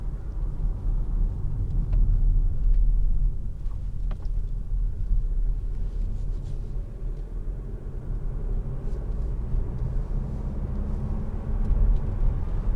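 A 2018 Mazda CX-3 1.8 diesel 115PS 2WD on a test drive gives a steady, loud low rumble of engine and road noise from inside the cabin as it accelerates, with no talking.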